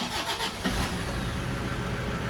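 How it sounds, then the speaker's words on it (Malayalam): A Toyota Innova diesel engine starts, with a brief cranking burst that catches and settles into a loud, continuous, close rumble. "ഇനി നമുക്കൊന്ന് സ്റ്റാർട്ട് ചെയ്യുന്ന റേസ് ചെയ്ത് നോക്കാം"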